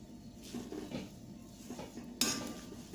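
Metal clinks and a brief clatter as the lid comes off a pot of broken rice and moong dal upma after about ten minutes of steaming, with a sharper clank near the end over a faint, quiet kitchen background.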